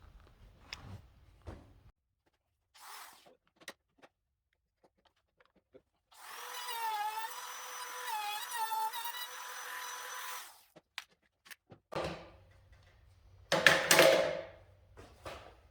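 A power tool cuts wooden loft ladder pieces in a short, loud burst of a few seconds, set among scattered knocks and handling clatter from a small cabin build.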